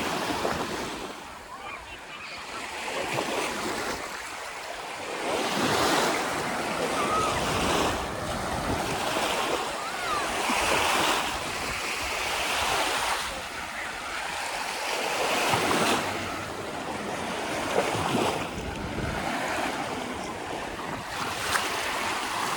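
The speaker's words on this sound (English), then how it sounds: "The waves." Ocean waves roll in and wash up Crystal Beach in Fort Erie in repeated surges, a broad hiss of surf with wind buffeting the microphone throughout.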